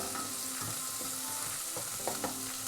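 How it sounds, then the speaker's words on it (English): Onions and garlic sauté in a pan for a chickpea, spinach and coconut curry, giving a steady close sizzle with a few soft stirring scrapes and no talk. "So the onions and garlic have been sauteing"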